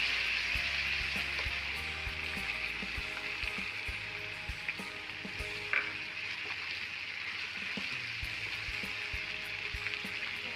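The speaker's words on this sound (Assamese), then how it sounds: "দুই 3 মিনিটমান সময় এনেকৈ বটি লোৱা সামগ্ৰীখিনি ভাজি থাকিব।" Ground mustard, poppy seed and cashew paste fry in hot oil for a restaurant-style fish curry, sizzling steadily up close with occasional stirring scrapes and pops throughout.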